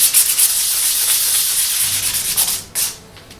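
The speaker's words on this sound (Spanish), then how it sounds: "ahora al lijarlo, vamos a utilizar una lija de 600" Sanding a cast Mandalorian beskar replica piece, blackened from the mold, with 600-grit sandpaper: a steady, close, hissy rubbing that continues throughout, briefly easing near the end before one last stroke.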